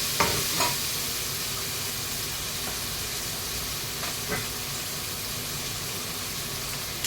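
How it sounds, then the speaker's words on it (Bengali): Salted onion fries in a pan with a constant, even sizzle. A few soft scraping stirs break through the hiss, and no one speaks. "এখানে দেখো পেঁয়াজটাকে একটু ফ্রাই মতো করে নিলাম।"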